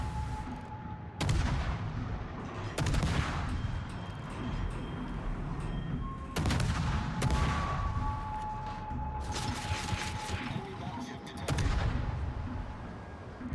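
Naval gunfire in World of Warships booms in repeated heavy salvos about every one to three seconds over a constant rumbling engine and sea ambience, with faint tones from the game interface.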